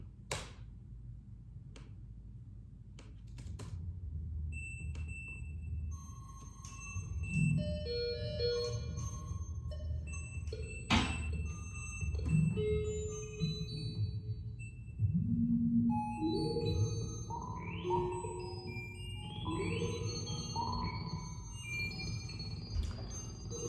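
MIDI notes spanning the full 0 to 127 range, generated from a JPG image by a Python script, play as a scattered run of synthetic tones that jump between high and low pitches over a low hum, fairly quiet.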